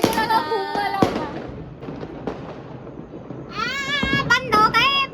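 Diwali firecrackers bursting in sharp, loud cracks, one near the start and a cluster toward the end, while children shout and chatter excitedly over the bangs.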